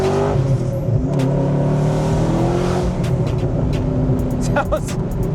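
A supercharged Ford GT engine revs hard and loud, its deep growl rising and falling in pitch, with a voice talking briefly underneath.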